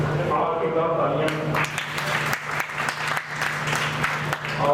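An audience at a literary society gathering in Prayagraj breaks into applause; a voice speaks briefly first, then dense clapping takes over, strong and sustained to the end.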